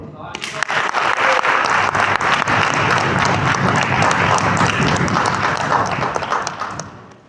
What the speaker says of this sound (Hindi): तालियां कम थी